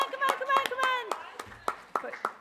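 A few scattered claps ring out among an audience cheering for contestants, sharp isolated hand smacks spaced irregularly under a voice talking and urging people on.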